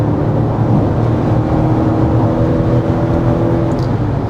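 A 2025 Mazda CX-70 plug-in hybrid SUV accelerating onto an interstate as its gas engine kicks on, a steady droning engine hum and rising whir under road noise from inside the cabin, no speech.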